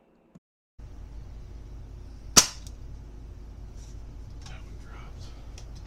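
A single sharp crack of a Diana Model 48 spring air rifle firing from a bench over a faint outdoor background, with quiet speech-like sounds afterward.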